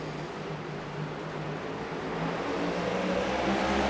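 Race trucks roar off at the start of a truck race, a dense, continuous engine rumble that swells louder toward the end.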